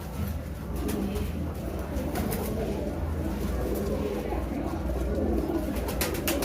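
At the Shahdra pigeon market in Lahore, Kamagar and Teddy pigeons keep up a continuous deep cooing, fairly close and steady, over faint market background with occasional light clicks.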